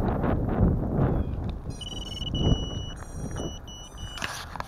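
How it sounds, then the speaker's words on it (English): Outdoor wind rushes in uneven gusts against the microphone in a steady low roar, with faint high electronic beeps sounding briefly over it. "Man, I wish it wasn't so windy out."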